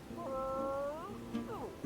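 Dinosaur creature calls in the Paleo Pines video game, a pair of drawn-out, mournful, wavering cries, the second one sliding downward, close and clear over quiet background music.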